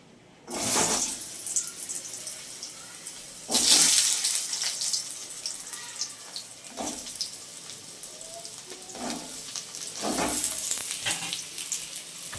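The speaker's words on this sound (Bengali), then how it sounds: "এবার আমি তেলের ওপর আলুগুলোকে ছেড়ে দেবো" Diced potatoes dropped into hot oil for frying, giving a steady sizzling hiss with several louder crackling surges when pieces hit the oil, fairly close and without talk.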